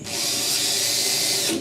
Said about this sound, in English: I drill a little 1/8" pilot